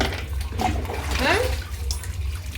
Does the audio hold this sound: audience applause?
no